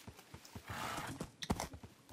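Hooves of a horse in Minecraft clop in an uneven series of soft thuds, with a brief whooshing splash in the middle and a sharper hoof strike near the end, fairly faint overall.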